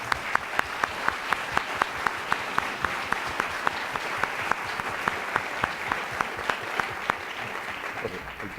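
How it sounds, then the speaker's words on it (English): Audience applauding a panel at a debate on Cuba, a full sustained round of clapping across the hall with one sharp, regular clapper standing out close by throughout. "can we please have a round of applause for our panel?"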